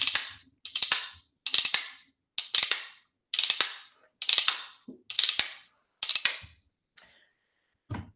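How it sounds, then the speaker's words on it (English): Metal spoons are played in a spoon roll, the bottom spoon bouncing across each finger in turn, giving eight quick rattling bursts of clicks at a steady pace, close and crisp with short silences between. "Then another thing you can do with the spoons is you can do what's called a spoon roll."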